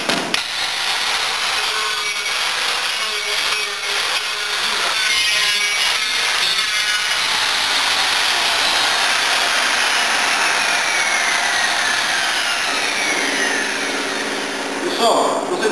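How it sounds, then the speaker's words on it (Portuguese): Marble saw grinding a round opening into a ceramic tile for an electrical point, a harsh, loud, continuous abrasive whine that shifts in pitch as the cut progresses, close by, with a voice speaking in Portuguese over parts of it. "Eu tenho comigo a serra mármore."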